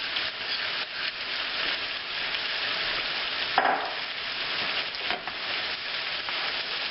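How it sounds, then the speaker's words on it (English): Rice is stirred into a stir fry, sizzling continuously with a dense, close frying crackle and occasional spatula scrapes; no talking. "Okay, now I'm going to add my rice. I'm going to give that a stir."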